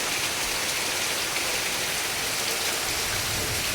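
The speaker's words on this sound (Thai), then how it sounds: "บรรยากาศฝนตกที่ทุ่งนา" Steady, dense rain pours down over rice fields outdoors, an even hiss of falling water with no voices.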